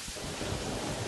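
Rain and rumbling thunder from the video game Terraria, a steady broadband wash of rainfall with low rolling thunder underneath, loud and constant throughout without any talk.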